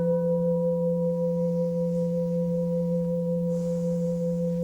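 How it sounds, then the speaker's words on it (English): Meditation gongs ring out in soothing, sustained tones, two steady resonant pitches humming continuously and evenly throughout, calm and unbroken, with no voice heard. "as I sound the soothing tones of the gongs"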